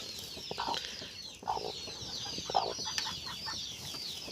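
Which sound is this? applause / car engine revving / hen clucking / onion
hen clucking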